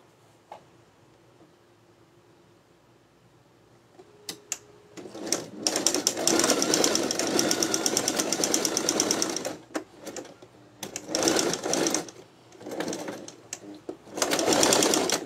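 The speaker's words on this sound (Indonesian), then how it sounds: "Kita jahit dulu getah ya." A sewing machine stitches elastic onto a waste bin cover: quiet at first with a few clicks, then long, fast, rattling runs of stitching broken by short pauses, close and loud.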